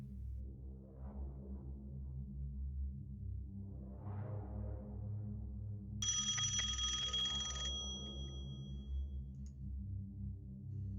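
A telephone rings once in the video game Five Nights At Tony's, a bright buzzing ring lasting under two seconds over a steady low droning ambience, with faint rises of hum before and after and no speech.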